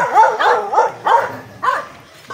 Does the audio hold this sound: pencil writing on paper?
no